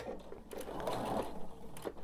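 A sewing machine stitches a quilted pillow top with a faint, steady whirring run of stitches that pulses slightly, heard alone at low volume.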